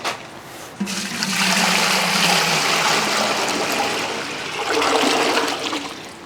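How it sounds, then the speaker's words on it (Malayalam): Water pours steadily into a large copper cooking pot set up for cooking porridge for a crowd, a loud continuous rushing stream that begins abruptly, eases slightly midway, then swells again. "അപ്പോൾ നമ്മൾ കുറച്ച് വെള്ളം ഒഴിച്ചിട്ടുണ്ട്"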